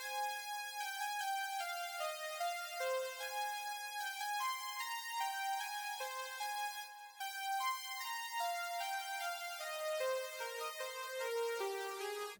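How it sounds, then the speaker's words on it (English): A saw synth plugin from Flex plays a lead melody, a bright buzzy line of sustained notes stepping through a simple tune, clean and alone at moderate volume. "I started with this saw plugin from Flex to play the main lead melody"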